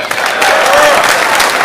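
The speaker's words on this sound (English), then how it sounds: "The crowd trying to urge him on." Crowd applause at a professional 9-ball pool match in an arena, a steady dense wash of clapping lasting under two seconds with commentary voices blended in.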